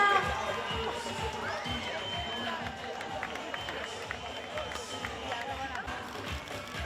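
Spectators cheer and clap at the finish of a charity fun run in Sant Adrià de Besòs, a busy crowd wash with voices and scattered claps beneath a loud announcer.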